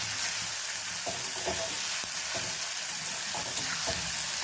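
Salted onions frying until brown in a pan for a broad bean, potato and tomato curry make a constant close sizzle. Regular spatula scrapes and knocks break through it, and no voice is heard.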